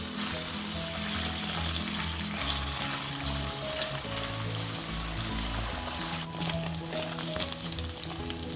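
Paneer pieces fry in hot oil over raised heat, a continuous bubbling sizzle heard close up with low tonal sounds underneath and no voices.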